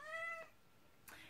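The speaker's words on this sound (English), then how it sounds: "So she is a Sphynx cat." A Sphynx cat gives one short, faint meow, quiet and slightly distant, followed by a soft brushing noise.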